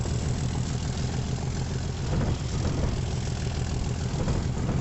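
A British Rail Class 37 diesel locomotive in Transport Fever runs with a steady, loud, rumbling engine drone, a gruff, tractor-like throb that holds even throughout with no talk.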